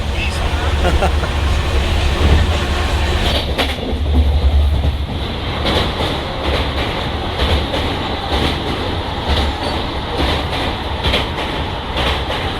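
A steady train rumble fills the clip, with rhythmic clacking of wheels over rail joints and a dense, continuous roar from inside a carriage of a near-empty night train at Dadar, Mumbai.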